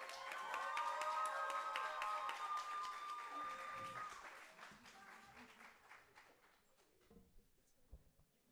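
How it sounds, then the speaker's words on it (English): Applause from the audience at a Georgia State student government presidential debate, a broad wash of clapping that is loud at first and then thins and fades over several seconds, with a few scattered claps near the end. "let's give them a final round of applause"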